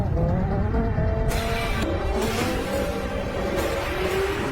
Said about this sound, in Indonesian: Ketika mobil BMW milik Sohyuk kembali dinyalakan